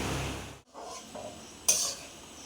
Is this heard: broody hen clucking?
no